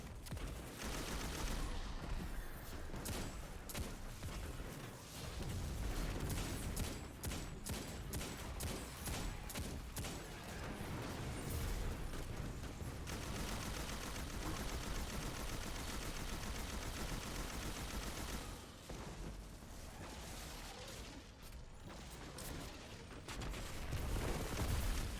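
Sustained machine gun fire from the video game Destiny 2, with rapid bursts and booming explosions layered loudly and almost continuously, briefly easing before intense volleys resume.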